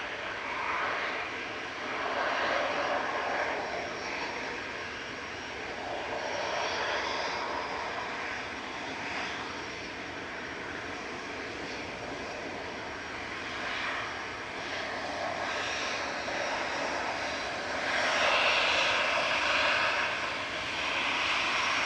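Aircraft engines roar continuously at Manchester Airport, a loud, broad rushing drone lasting the whole stretch, swelling slightly in places and rising again near the end, with no voices over it.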